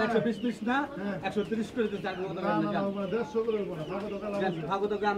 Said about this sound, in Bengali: বন্ধুরা দেখতে পাচ্ছেন এই যে এখানে কবুতর বেচা কিনা চলছে।